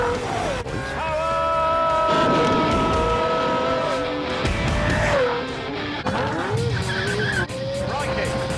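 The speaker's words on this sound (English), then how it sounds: "The acceleration is so brutal." A car accelerates hard on the Top Gear economy race, engine revving and rising with squealing tires and skids, loud and close, while people shout and talk over it.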